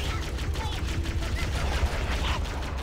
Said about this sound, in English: the speedy Covenant Ghost, with front-mounted energy cannons, perfect for strafing large groups of enemies